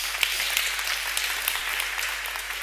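Steady audience applause in a conference hall after a music-education talk's on-stage chord demonstration: dense, even clapping from a crowd, close and sustained for under three seconds with no speech.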